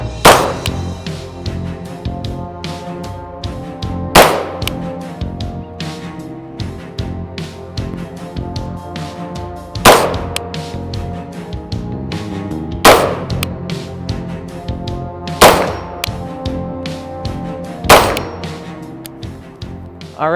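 Single shots from a Bushmaster 11.5-inch short-barrelled rifle with a police trade-in upper receiver, loud sharp reports spaced several seconds apart, about seven in a row, each with a ringing metallic tail.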